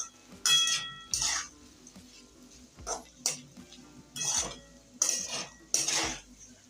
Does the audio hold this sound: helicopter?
no